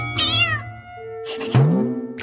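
A cat meows several times up close, with short bright cries and a longer drawn-out mew, alone without talking.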